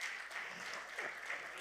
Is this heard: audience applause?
yes